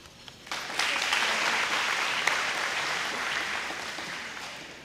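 An audience claps steadily at a dual language bi-literacy certification ceremony, rising quickly after a few scattered claps into sustained, fairly loud applause that fills the hall.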